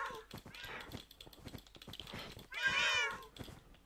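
Cats meow in a Minecraft minigame, several short mewing calls scattered through the stretch and a louder, clearer meow near the end, over soft game clicks and key taps.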